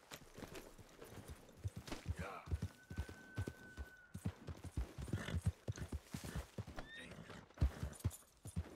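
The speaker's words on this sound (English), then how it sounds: "God, I love how fast this horse is." A horse galloping in Red Dead Redemption 2, with steady rapid hoof clops throughout and a short whinny partway through, while a person talks over the game audio.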